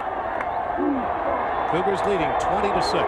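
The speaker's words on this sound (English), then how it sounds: "Crowd trying to help him out. Listen to that roar." A stadium crowd roars steadily at a 1988 college football game between Texas and BYU, with a dense, constant wash of noise running beneath a commentator's voice.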